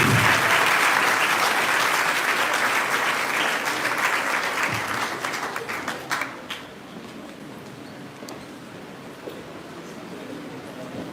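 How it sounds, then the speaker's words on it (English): Applause for primary school grade performers at a school event: a full room claps loudly and steadily for about six seconds, then the clapping thins to scattered single claps and fades into quiet room noise. "You can give a round of applause to grade 73."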